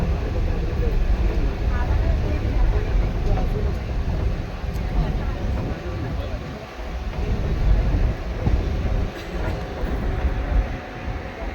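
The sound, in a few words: train at a railway station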